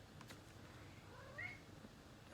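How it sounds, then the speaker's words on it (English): A single short cat meow, faint and close in a quiet room, rising briefly over low background hiss as the cat jumps up. "My cat just jumped up here."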